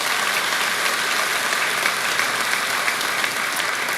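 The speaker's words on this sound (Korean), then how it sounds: "하나님께 영광의 박수 한번 올려드리도록 하겠습니다." Church congregation applauding during a Sunday worship service, a loud, dense and continuous wash of clapping from a large crowd filling the room for the whole stretch.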